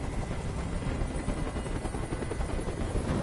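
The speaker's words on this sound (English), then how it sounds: "Tell that helicopter to get out of here!" A helicopter in the video game Detroit: Become Human hovers overhead, its rotor thudding steadily in a dense, continuous drone with no voices.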